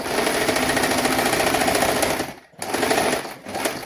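A sewing machine runs steadily while stitching fabric for a girls' garment in a basic tailoring lesson, its loud, even whir briefly pausing midway before starting up again.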